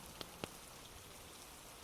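Soft, steady rain from the Honkai Star Rail game falls continuously as a faint, even hiss, with a couple of brief drip-like ticks near the start.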